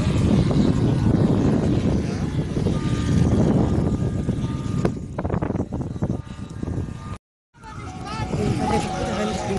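A model P-47 warplane flies past at a model air show, its engine droning loudly before fading, with voices talking over it and a brief dropout near the end.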